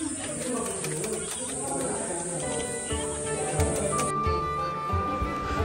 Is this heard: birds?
yes